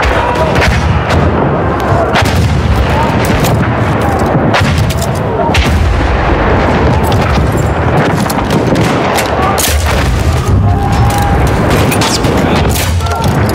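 Enemy machine gun fire in Battlefield hammers away in dense, continuous bursts mixed with booming explosions and crashes, loud and close, with shouting voices now and then over the battle din.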